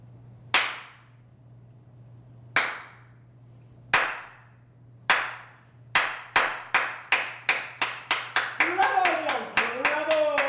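One man claps his hands alone, a few slow, sharp claps that speed up into a rapid burst of clapping, heard in a quiet indoor stage setting of the play Leonce and Lena by Georg Büchner.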